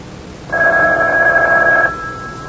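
A telephone bell rings in a single sustained burst of about one and a half seconds, loud and close, in a tense scene of an old-time radio mystery drama, with no voices over the ring.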